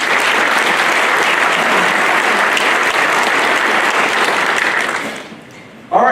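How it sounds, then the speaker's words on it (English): A large crowd at a small business forum gives a loud, dense round of applause that holds steady, then fades out near the end before a brief new sound cuts in. "So please join me and give them a big round of applause."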